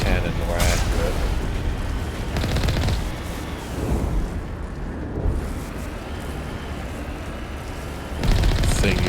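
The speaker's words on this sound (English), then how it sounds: "Thank God they made this cannon more accurate." Repeated heavy cannon blasts and gunfire crash in Mass Effect 1 combat, dense loud bursts layered with booms and mechanical clatter, with someone talking over the action.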